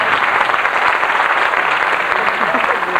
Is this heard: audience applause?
yes